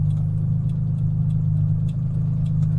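A 1985 Suzuki Mighty Boy's small engine drones steadily at low revs, a loud, close, continuous rumble with an even tone and no clear change in pitch.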